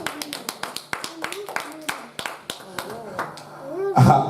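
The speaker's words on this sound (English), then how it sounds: "Clap your hands and celebrate him." A church congregation claps in a steady rhythm, each clap a sharp, evenly spaced hit, while voices rise over it. The sound swells into a louder burst near the end.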